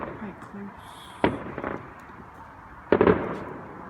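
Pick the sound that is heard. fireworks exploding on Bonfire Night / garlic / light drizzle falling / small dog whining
fireworks exploding on Bonfire Night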